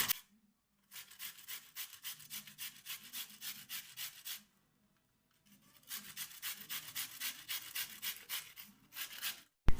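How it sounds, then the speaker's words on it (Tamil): Watermelon rind rubbed against a hand grater in two long bursts of steady, rhythmic rasping strokes, close and fairly loud, separated by a short pause, with no talking. "இப்போ துருவி எடுத்துக்கலாம்."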